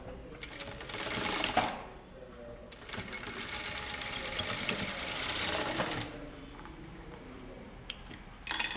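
An electric sewing machine runs in two steady whirring bursts as it stitches a blouse button patti, with a short pause between the bursts and a few faint clicks and handling sounds.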